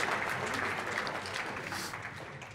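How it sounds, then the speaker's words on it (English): A large audience at a Wembley speech claps for itself in dense, steady applause, fairly loud and continuous, tapering slightly toward the end. "the way you all clapped yourselves at the end"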